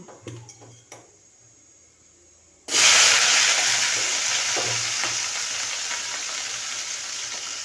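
Cauliflower tipped into hot oil already crackling with mustard seeds and urad dal for cauliflower aviyal: a few light taps, then a loud sudden sizzle that keeps hissing steadily, slowly easing off.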